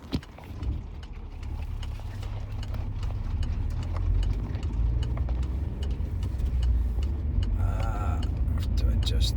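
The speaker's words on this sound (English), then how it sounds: "there are like a lot of horses coming here past me." A large herd of horses passes on a main road in Iceland, their hooves clip-clopping in a dense, continuous patter close by, with traffic rumble and voices underneath throughout.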